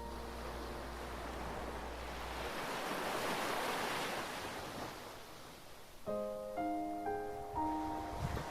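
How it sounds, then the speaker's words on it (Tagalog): Ocean waves surge and wash onto the shore in a steady, broad roar, with wind noise across the microphone and a soft tonal music-like layer entering toward the end. "Paulit-ulit ang pagdating ng alon."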